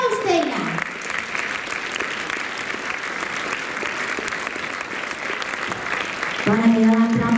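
A large audience applauds a children's dance club performance, with sustained, dense clapping throughout and cheering children's voices rising over it at the start and near the end.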